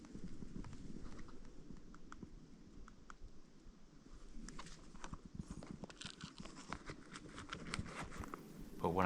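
Elk hooves thudding and clattering through rugged Colorado terrain during an archery hunt, faint and distant, with irregular rhythmic steps passing over several seconds.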